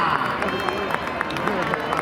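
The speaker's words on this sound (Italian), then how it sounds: "Un grande applauso alla Cruz Sorrentina" A crowd applauds outdoors at Sorrento's New Year's Eve "Ciuccio 'e Fuoco" fireworks tradition, with steady, dense clapping and scattered cheers under a voice on the loudspeaker.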